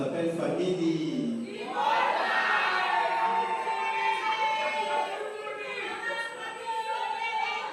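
A crowd at an awards ceremony cheers and applauds as a patriarch hands over a trophy, with loud shouting, whooping voices and chatter over continuous clapping.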